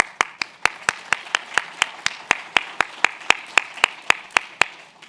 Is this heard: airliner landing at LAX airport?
no